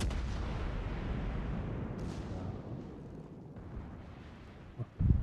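Ship guns fire in the World of Warships naval game, a dense rumbling barrage with booming low thuds that fades slightly before a sharp heavier blast near the end.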